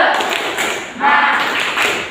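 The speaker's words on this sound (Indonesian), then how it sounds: "Oke, kita tepuk semangat, siap?" Primary school students perform the 'tepuk semangat' spirit clap, a short burst of quick, rhythmic claps and taps in a classroom, with children's voices joining in partway through.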